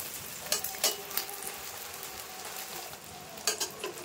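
An egg roll, a flatbread layered over egg, sizzles steadily in a frying pan after being flipped, with a few sharper spatula scrapes and clinks near the start and end.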